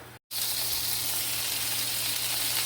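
Burrito bowl ingredients browning in a hot pan give a steady, close, bright sizzle. It starts after a brief moment of silence and continues evenly without speech.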